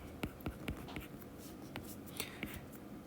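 Marker or chalk writing on a board during a maths lesson, a quick series of sharp taps and scratchy strokes, close and fairly faint.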